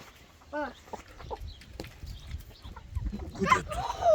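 A chicken eating a maybug clucks in short, repeated calls over a low rustling background, with a louder burst of clucking near the end and a voice faintly present in places.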